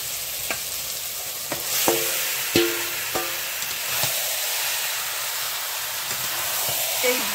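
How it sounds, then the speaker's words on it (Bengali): Chicken meat is stirred into fried spice paste in a pan, with a continuous sizzle under several sharp scrapes and clacks of a spatula at uneven intervals. "এই ভাজা মশলার সঙ্গে মাংসটাকে মিশিয়ে দেবো"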